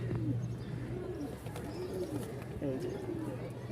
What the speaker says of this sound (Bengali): একদম সেম টু সেম এক জোড়া কবুতর আছে লাল কালার